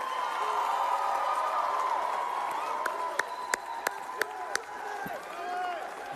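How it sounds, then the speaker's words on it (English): Audience applause and cheering fill a hall at a Politicon political debate, a steady broad wash of clapping and crowd noise with several sharp louder claps standing out near the end. "I want you to give a huge Politicon round of applause."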